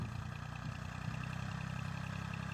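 A Chinese tractor ploughs a field with a Bellota plough, its engine running steadily nearby with a low, rhythmic chugging and slight clatter.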